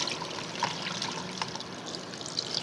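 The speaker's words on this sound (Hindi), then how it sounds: "और इसमें सही से हम पानी डाल के" Water pours steadily over salted raw mangoes in a strainer, a continuous close trickle and splash with small droplet spatters.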